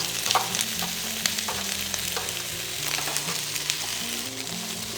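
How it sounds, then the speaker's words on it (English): Onions, carrots and potatoes fry in oil in a pan over medium heat, giving a steady close sizzle with occasional light clatter from stirring, and no talking. "Fry all this for about 5 minutes till the onions are a little translucent."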